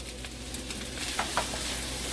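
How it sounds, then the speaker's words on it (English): Soy sauce hits chicken fried rice frying in a pan, raising a soft, steady sizzle with a couple of brief scraping stirs near the middle. "I'm going to go ahead and add some soy sauce to the rice."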